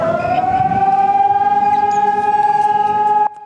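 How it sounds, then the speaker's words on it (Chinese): Air raid siren sounding during a civil defense drill on Taipei streets, a loud steady wail held for about three seconds, then cutting off abruptly. "防空警报响起来"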